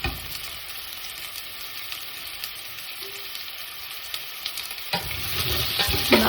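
Pumpkin sabji being stirred in a hot pan over high heat, a bright steady sizzle with scattered scrapes that swell into louder, fuller stirring near the end.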